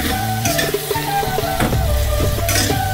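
Potato curry with Kashmiri chilli powder being sautéed in a pan: a loud, steady sizzle runs throughout, with a spatula scraping and clinking against the pan in an uneven rhythm.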